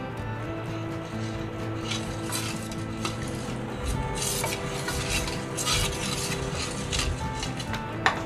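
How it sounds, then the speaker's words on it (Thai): Batter of flour, coconut milk and pandan juice for Thai pandan cups being stirred in a bowl, a steady swishing and scraping with light clinks of the utensil against the sides, close and continuous. "แล้วก็คนส่วนผสมให้เข้ากันดีเลยค่ะ"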